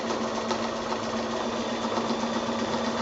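A sewing machine fitted with a walking foot stitching straight quilting lines along a seam, a continuous fast mechanical whirring hum with a steady tonal buzz, constant and close throughout.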